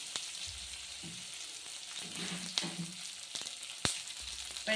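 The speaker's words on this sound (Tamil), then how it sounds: "இப்போ பூண்டு பூண்டு இஞ்சி இது நல்லா வதங்கிட்டோங்க" Garlic and ginger sauté in a pan with onions, a soft steady sizzle close by, punctuated by a few sharp clicks and light stirring scrapes; quiet overall, no talking.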